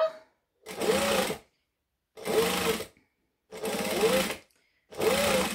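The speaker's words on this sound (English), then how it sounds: "So I'm just stitching 1/8 of an inch from the edge of the fabric" A sewing machine stitches fabric about an eighth of an inch from the edge, running in four short, even bursts of rapid whirring with silent pauses between, close and alone.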